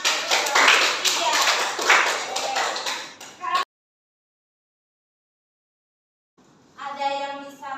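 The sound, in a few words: classroom applause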